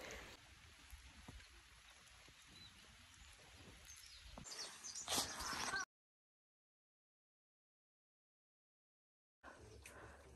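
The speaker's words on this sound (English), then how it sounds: "So guys, it's raining again." Rain pattering steadily on foliage during a mountain hike on the Bisoke volcano in Volcanoes National Park, a continuous soft hiss with scattered drops, swelling louder briefly before a gap of silence and then resuming.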